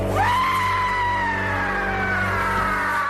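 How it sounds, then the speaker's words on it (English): A movie creature lets out a blood-curdling scream, one long shrill wail that rises sharply then holds, loud and close over a low rumble. "letting out a blood-curdling scream"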